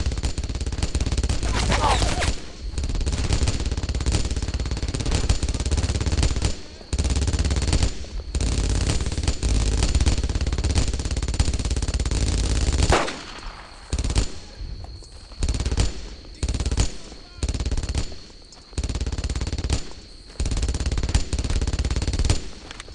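An MG-42 machine gun in the WWII shooter Brothers in Arms fires long, loud, rattling bursts broken by short pauses, mixed with other gunfire over about twenty seconds.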